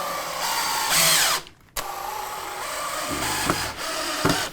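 A power drill whines loudly as it drives construction screws through a block into a wall, its motor pitch rising and falling, with a brief pause and the bit grinding into the material.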